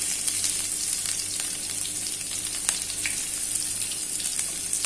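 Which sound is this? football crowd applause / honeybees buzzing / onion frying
onion frying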